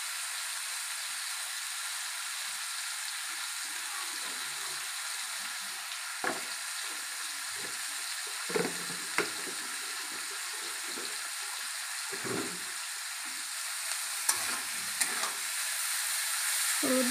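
Greens with tender stalks cook with turmeric and salt in a pan, giving a soft, steady sizzle while a spoon now and then scrapes and knocks against the metal.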